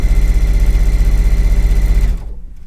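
A sewing machine stitches a spring garden flag pennant, a loud close rapid mechanical hum and pulse running steadily for about two seconds before stopping abruptly and winding down.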